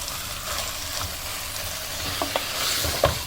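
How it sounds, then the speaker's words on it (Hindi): Minced meat fries with onion, ginger and garlic over a high flame, giving a dense, steady sizzle. A few light scrapes and knocks of stirring come near the end. "कीमे को प्याज, अदरक, लहसुन के साथ 3 मिनट के लिए हाई फ्लेम पे अच्छे से भून लिया, मिक्स कर लिया।"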